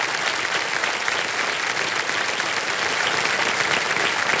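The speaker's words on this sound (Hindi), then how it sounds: "तालियां बज जाए इनके लिए।" Studio audience at a televised quiz show applauds a young contestant's parents, with loud, steady clapping throughout.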